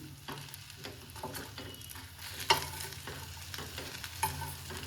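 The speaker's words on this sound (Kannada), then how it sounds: "ಇದನ್ನೆಲ್ಲ ಮಿಕ್ಸ್ ಮಾಡಿ ಸೊಪ್ಪೆಲ್ಲ ಬೇಯಬೇಕು. ಅಲ್ಲಿವರೆಗೆ ಲೋ ಫ್ಲೇಮಲ್ಲಿ ಇಟ್ಟಿನಿ." Moringa leaves cook in a pan over a low flame, giving a soft, steady sizzle, with repeated scraping stirs and a few sharper clinks of the spoon against the pan, heard up close with no talk.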